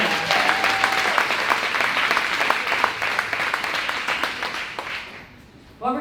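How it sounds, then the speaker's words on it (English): An audience gives a round of dense, continuous applause that gradually thins and fades away, and a voice starts speaking just as it ends. "So a round of applause for her."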